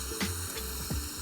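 Smash burger patty topped with cheese sizzling on a hot griddle, a steady close frying hiss with a few brief clinks from a spatula.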